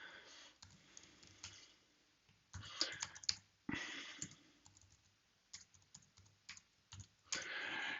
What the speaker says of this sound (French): Je vais taper une autre adresse mail.